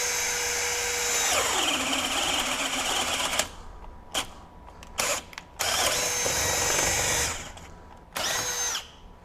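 Milwaukee M12 FUEL hammer drill in speed 2 boring with a 7/8 inch self-feed auger bit, a loud whining grind that bogs and stops, then restarts in several short bursts.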